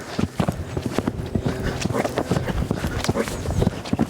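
A pony's hooves thud and clatter in an uneven, close rhythm across the ground around a jump, with soft breathing and tack noise between the strikes.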